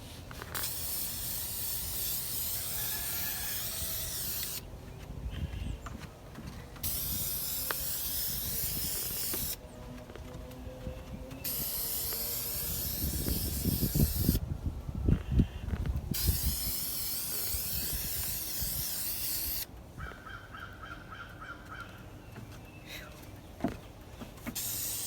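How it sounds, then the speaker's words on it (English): Aerosol spray paint can hissing out a second coat in several bursts of a few seconds each, close and steady, with brief pauses between sprays and faint outdoor background. "All right, so here goes the second coat."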